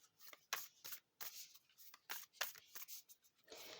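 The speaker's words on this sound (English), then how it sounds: "I love to shuffle these cards." A deck of oracle cards is shuffled by hand in quick bursts of crisp riffling and slapping, close and clear, with short pauses between each shuffle.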